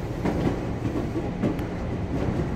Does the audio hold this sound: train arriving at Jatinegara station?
yes